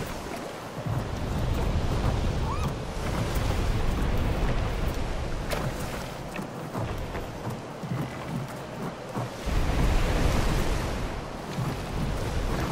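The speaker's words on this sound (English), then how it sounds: "Oh my god, what's up with the waves?" Heavy surf crashes continuously around a wounded boat at sea during the dry season in Don't Starve: Shipwrecked, a loud, rolling wash of big ocean waves and wind noise with no talking.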